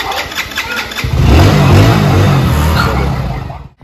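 An engine cranks over and then catches, settling into a loud, close, steady running rumble before it cuts off abruptly at the end.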